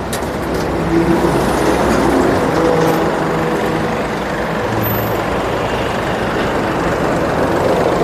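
A car-carrier container truck loaded with six cars idles with a steady, loud low rumble, joined by passing traffic and a brief higher whine.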